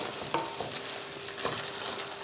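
Mushroom gravy in a pan gets a light stir after curry leaves and coriander go in, with soft scraping strokes and a faint sizzle running underneath. No one speaks.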